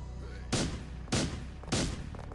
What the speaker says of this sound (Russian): иногда забываю отпускать кнопку стрельбы